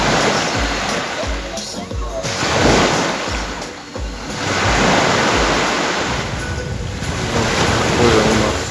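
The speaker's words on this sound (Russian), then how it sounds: "море сегодня с волной" Sea waves break and wash onto the shore at Kemer beach, a loud continuous surf roar with rhythmic surges, wind buffeting the microphone throughout.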